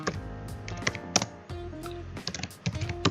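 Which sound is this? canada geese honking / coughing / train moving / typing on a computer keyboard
typing on a computer keyboard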